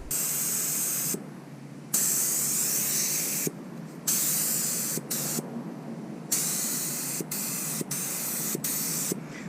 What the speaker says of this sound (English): That's spraying pretty nice.